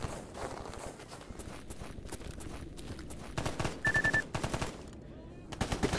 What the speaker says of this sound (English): Gunshots make me scared